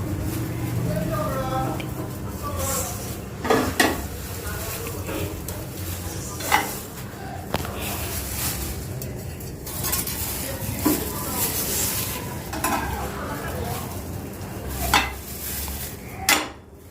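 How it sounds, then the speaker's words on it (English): Bread slices roasting in a pan for a bread omelette, a soft low sizzle under a person talking, broken by sharp clinks and clatters of utensils against the pan. "And we will be roasting the bread slices here."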